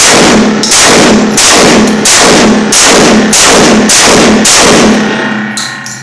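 Benelli M2 tactical shotgun firing outdoors, six loud booming shots in a steady rhythm about every three-quarters of a second, each with a ringing tail, close and alone with no talk.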